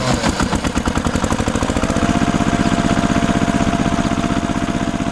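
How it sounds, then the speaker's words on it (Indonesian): An animated red tractor engine pulls a trailer on a farm, chugging in a fast, steady, loud rhythmic putter that runs without a break and without talk. "Traktor merah sedang menarik trailer yang serupa."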